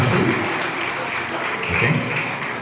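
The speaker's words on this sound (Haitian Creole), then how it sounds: "Applaudissez pour nous." An audience at a school ceremony in Camp-Perrin claps in a sustained, fairly loud burst that swells slightly and carries on throughout.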